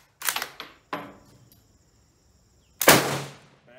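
A rifle firing Bulgarian 8mm steel-case surplus ammunition with hang fires, heard as a few sharp, loud close cracks with pauses between them and no talking.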